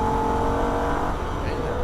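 A Holden VF Ute's engine drones loud and steady at high revs while flat out on a Nürburgring lap, with a brief tonal shift as the gear changes.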